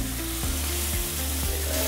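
Olive oil sizzles loudly in a very hot pan before thick beef steaks go in, a dense crackling hiss broken by a few scraping strokes.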